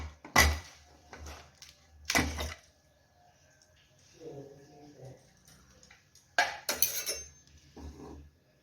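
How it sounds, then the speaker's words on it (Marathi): A lid taken off a pressure cooker of masale bhat gives a few sharp metallic clanks separated by quiet gaps, with faint handling noises between them. "इथे बघा आपण कुकर गॅस खाली काढून घेतलेला आहे झाकण काढूया"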